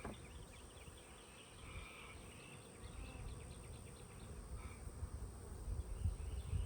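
Honey bees hum and buzz around an open hive on a farm, a faint, steady drone with individual bees passing close, and no talking.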